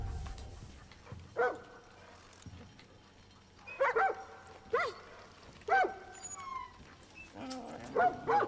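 A dog in the video game Far Cry New Dawn gives a series of short barks and yips in separate bursts with whimpering between them, fairly close and clear.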